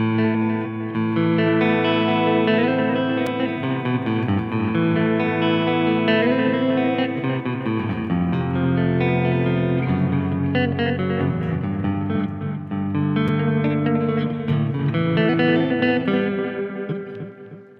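A distorted electric guitar, a PRS, plays chords and lead lines continuously, loud and saturated with a gritty edge and some echo, no voices.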